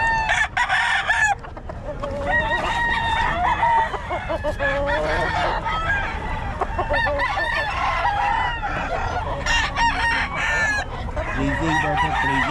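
A flock of chickens and roosters nearby, with loud overlapping clucking and repeated cock-a-doodle-doo crows ringing out over one another without a break.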